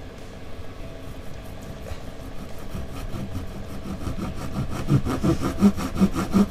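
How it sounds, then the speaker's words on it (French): Hand saw cutting through wood for a six-string multiscale bass guitar body, a steady rhythmic rasp of back-and-forth strokes that grows louder and more pronounced toward the end, close by with no talking. "On laisse travailler la scie."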